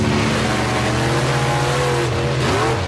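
A monster truck engine roars continuously, a loud, dense rumble that holds steady and shifts pitch slightly near the end, with no talk over it.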